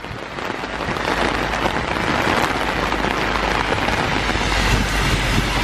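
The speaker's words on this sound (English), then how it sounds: "it's raining like crazy" Heavy rain pours down outdoors by a bus stop in the UK, a dense, loud, unbroken hiss of drops hitting surfaces that swells in the first second and then holds steady.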